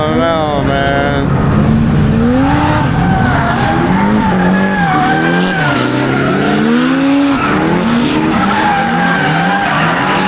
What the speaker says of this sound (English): watch some night drifting on school course